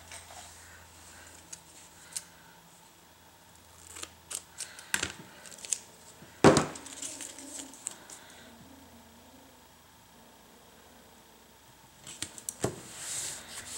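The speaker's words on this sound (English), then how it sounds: "Let's use some zebra stripe duct tape." Zebra stripe duct tape being pulled and pressed onto a handmade art journal, with quiet crinkles and scattered sharp tearing snaps, one loud rip near the middle and another burst toward the end, no talking.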